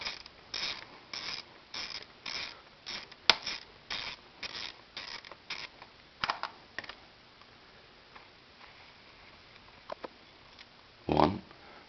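Phillips head screws are turned out of a carburetor bracket on a V65 Magna motorcycle, giving a series of short close clicking, ratcheting bursts in an irregular rhythm separated by quiet gaps.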